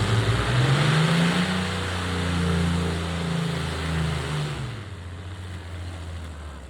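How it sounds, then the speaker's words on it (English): A new tractor engine on its first pull roars steadily at high revs, loud and close, its pitch rising and falling slightly before easing off near the end, with no voices. "the first pull with the new tractor"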